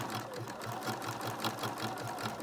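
A sewing machine runs in a steady close rhythmic chatter of rapid stitches for the whole stretch, doing zigzag stitching over threads for a handmade Valentine project, with no talk over it.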